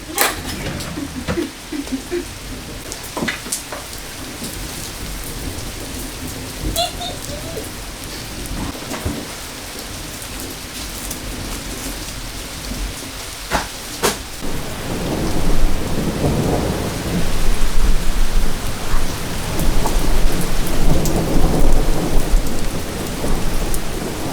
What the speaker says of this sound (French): Allez, la pluie, la pluie,